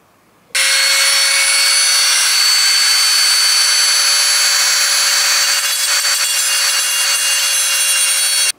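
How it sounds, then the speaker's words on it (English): A Dremel rotary tool cuts through the last ring of a crankshaft pulley on a 2015 Mercedes-Benz C450 AMG. The cutting makes a loud, steady, high-pitched whine that starts abruptly and holds at close range for about eight seconds, with no talking. "The Dremel tool is doing a really good job just cutting through this last ring"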